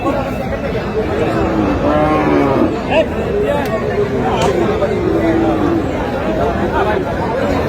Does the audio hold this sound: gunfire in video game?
no